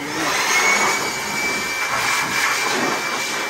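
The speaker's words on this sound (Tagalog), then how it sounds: "Blower ako ha." An air blower dries a motorcycle after washing. It makes a loud, steady, close-up roaring whoosh that is continuous, with no speech.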